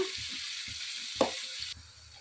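Onions frying in a pan for avalakki upma, a soft steady sizzle with low stirring thumps and one brief sharper scrape, faint and close.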